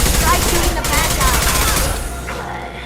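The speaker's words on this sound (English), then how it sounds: "Try shooting the bad guy." Dense, loud automatic weapon fire blazes in the video game Mass Effect 2: Legendary Edition, a continuous rattling barrage that eases slightly toward the end.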